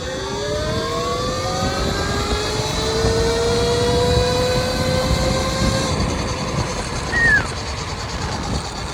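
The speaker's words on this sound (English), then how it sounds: "full speed test, full throttle, Talaria X3" Talaria X3 electric dirt bike running at full throttle, a loud steady motor whine rising in pitch under heavy rushing wind noise, continuous and close.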